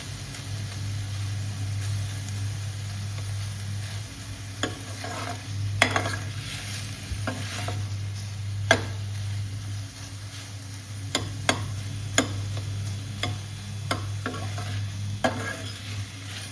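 Tomato masala stirred with a ladle in a kadai over a slow flame: soft continuous sizzling under a steady low hum, with irregular scraping clicks and taps of the ladle against the pan.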